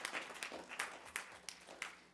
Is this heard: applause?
yes